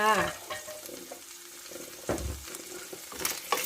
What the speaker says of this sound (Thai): ผัดนะคะผัดจนให้มะเขือเทศของเรานะคะ สุกนะคะ